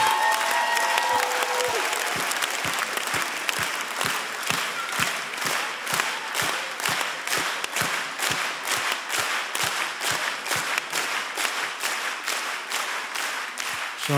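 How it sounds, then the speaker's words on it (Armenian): An audience at a live concert applauds, a dense, sustained wash of clapping from many hands that carries on for several seconds and slowly thins toward the end. "Այս բոլոր ծափերը մեր տղաներին,"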